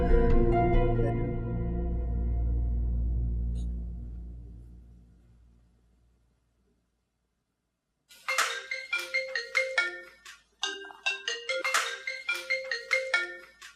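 A mobile phone ringtone plays alone: a low sustained tone fades out, then after a brief silence a bright electronic melody rings in repeated bursts, loud and close.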